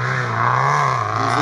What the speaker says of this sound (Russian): Трехлитровый мотор в этом УАЗе.